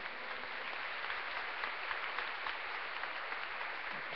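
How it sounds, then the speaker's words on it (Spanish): A congregation at a migrant mass applauds, producing a dense, steady wash of many hands clapping at moderate distance, sustained evenly throughout. "Recibimos con un aplauso a Jesús Cristo del migrante."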